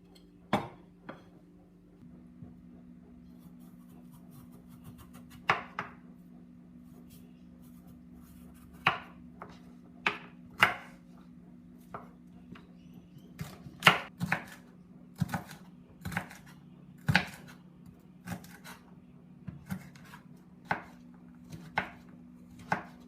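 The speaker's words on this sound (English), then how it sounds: "I'm going to have to cut it into smaller pieces to cook" Knife chopping cooked osso bucco meat into smaller pieces on a cutting board, irregular sharp close knocks, sparse at first and then quicker and denser, over a steady low hum.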